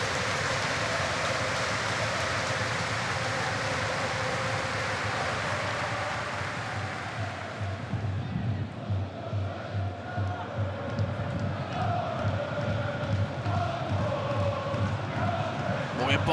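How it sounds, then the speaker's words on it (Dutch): Football stadium crowd in the 51st minute of a Go Ahead Eagles match giving sustained tribute applause, a broad wash of clapping like heavy rain under a commentator's voice. "Een oorverdovend applaus voor Kees Vierhout, die op 51-jarige leeftijd overleed."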